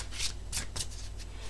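Tarot cards are shuffled in quick, crisp riffling bursts, about five short rustles in a row, close up and fairly soft, with no voices.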